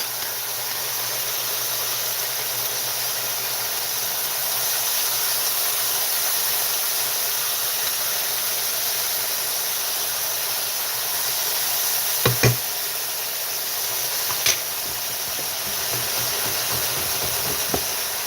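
Veggie dumplings steam and sizzle in a pan, a continuous bright hiss that holds loud and steady from start to finish, broken only by a few brief knocks and clicks near the end.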